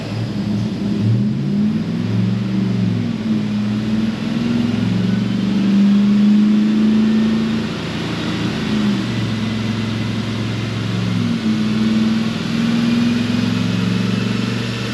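Callaway 560hp Tahoe with traction control off, accelerating hard in fourth gear, its engine a loud sustained drone heard from inside, with the pitch rising and shifting as speed builds.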